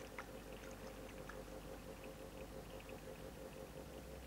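Well-aerated water is poured into a laboratory reaction vessel fitted with a magnetic stirrer, giving a faint, steady trickle over a low electrical hum with no talking.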